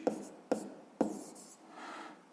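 A pen writes numbers by hand on paper, three sharp taps about half a second apart followed by a softer scratching stroke, close and quiet, with faint speech under it.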